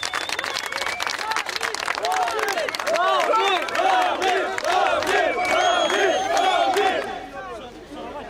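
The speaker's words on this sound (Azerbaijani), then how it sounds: "Ramil Səfərovu Fəxri Xiyabanın qarşısında da böyük izdiham gözləyirdi." A large crowd gathered outside the Alley of Honor in Baku roars and chants in many overlapping voices, cheering and shouting, with scattered clapping that swells and grows louder midway.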